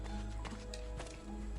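Horse hooves clip-clopping at a run in the Assassin's Creed II video game, a steady loud clatter of hoofbeats over continuous game background sound.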